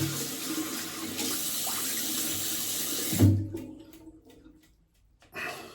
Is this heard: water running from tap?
yes